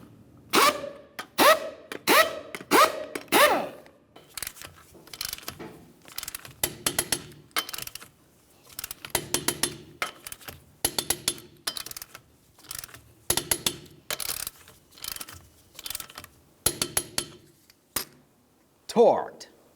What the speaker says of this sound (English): then torque them to 100 foot-pounds